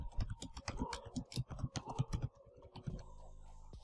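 Rapid keystrokes on a computer keyboard as a random title is typed into a newsletter form, a close, busy run of clicks for about three seconds, then a steady low hum.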